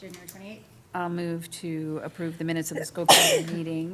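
A single sharp sneeze bursts out near the end of a school committee meeting in a meeting room, brief and fairly loud over someone speaking formally about approving minutes.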